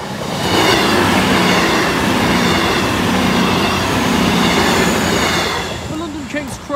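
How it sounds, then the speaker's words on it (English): A non-stopping train roars through a station platform at speed, a loud, sustained rush of rolling wheels and rattling carriages that holds steady for several seconds before easing off as it passes. "The train now approaching platform 1 does not stop here."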